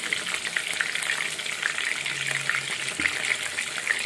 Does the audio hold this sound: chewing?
no